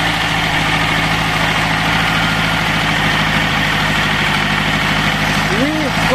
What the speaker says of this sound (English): This is a V4 engine.